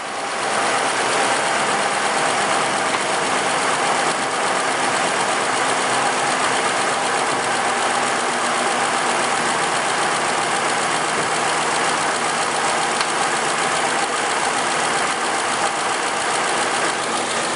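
A Ford Explorer/Mountaineer 4.6 V8 engine idles continuously after a timing chain repair, a loud, steady broadband rumble with no speech and little change in pitch.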